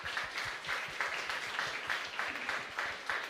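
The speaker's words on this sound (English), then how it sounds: "and a big applause." Fairly faint applause from a business talk audience welcoming the speaker to the stage, with clapping that swells in a loose, pulsing rhythm throughout.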